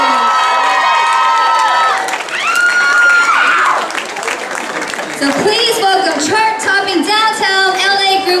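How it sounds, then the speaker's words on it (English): A crowd at Macy's Union Square in San Francisco cheers, whoops and applauds loudly and continuously as the band comes up to the stage, with voices shouting over the clapping. "Give them a round of applause."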